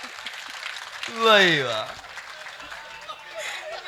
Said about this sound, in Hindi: सारे लोग ताली बजाओ